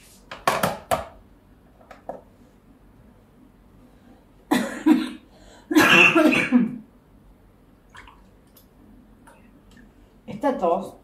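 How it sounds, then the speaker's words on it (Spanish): Several sharp coughs in short bursts, close by in a kitchen, with a quieter throat-clearing sound and faint clinks of kitchenware in the background. "Esta tos es de los aire acondicionados"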